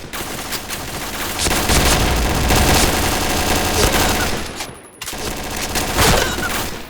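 Dense, continuous gunfire from the Point Blank online shooter game, with rapid bursts layered into a steady wall of noise that drops out briefly near the end before resuming.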